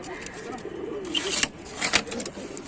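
Pigeons kept for sale coo softly in a loft, a low murmuring coo with a couple of brief sharper chirps over steady background noise.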